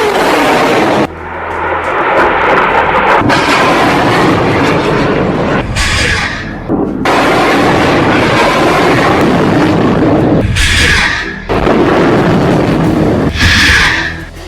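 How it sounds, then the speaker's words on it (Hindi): Hamas rockets launching one after another, a loud sustained roaring rush broken by brief gaps, several launches in succession at close range. "एक के बाद एक हमास 10 रॉकेट फायर करता है।"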